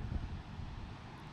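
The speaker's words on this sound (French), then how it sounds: "Mais il y a du vent, vraiment beaucoup de vent." Steady, roaring wind buffets the microphone at Sagres, Portugal's extreme southwestern point, a low rumbling rush that continues throughout with no voices.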